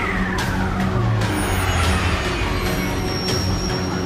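A cartoon jeep races at high speed through a chase, its engine roaring loud and steady, with tire and squealing noises over a constant rumble.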